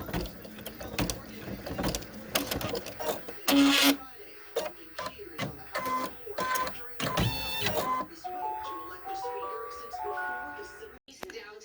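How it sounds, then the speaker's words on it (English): A home embroidery machine stitches freestanding lace Valentine heart earrings, running as a close rapid mechanical chatter of needle strokes. Motor whirs and short beeping tones come in toward the end. "it is going to stitch the outside part of the earrings"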